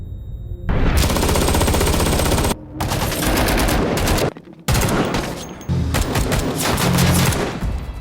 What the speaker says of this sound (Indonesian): Mereka berusaha menembak Brandon, tetapi Brandon berhasil melarikan diri dari lokasi.